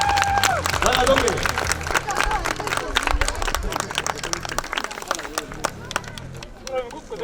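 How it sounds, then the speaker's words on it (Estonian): A street audience at a youth hobby fair in Viljandi claps for a performer, a dense patter of hands lasting several seconds with crowd murmur, while a voice speaks over the applause. "Tuleb kiita, teeme aplausi"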